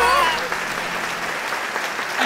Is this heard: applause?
yes